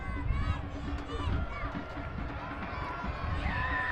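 A large soccer stadium crowd of Phoenix supporters rumbles as a continuous broad roar, mixed with wind buffeting and commentary-style talk over the top.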